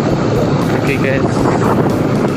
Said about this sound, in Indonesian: ini adalah anginnya sangat besar sekali guys